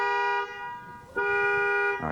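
Car horn sounding as the alarm is switched on: two sustained, loud buzzing blasts separated by a brief dip, then a sharp cutoff, heard close with no talking.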